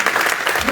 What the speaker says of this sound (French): let's give them a hand